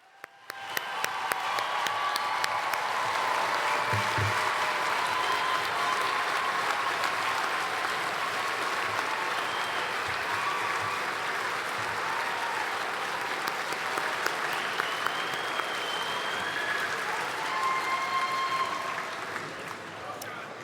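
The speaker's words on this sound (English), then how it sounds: "let's all stand up and applause again, the alumni class of" A large commencement audience applauds graduates at a 2018 college ceremony, sustained dense clapping from a big crowd lasting about twenty seconds at steady loudness, fading slightly at the end.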